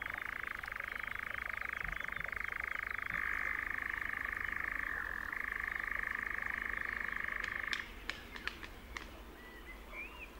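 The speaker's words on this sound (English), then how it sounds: "the nightjars emerge at dusk to produce their strange, trilling song" A nightjar's churring trill at dusk holds one steady, mechanical tone for nearly eight seconds, then stops. A few faint clicks follow over a constant hiss of insects and night ambience.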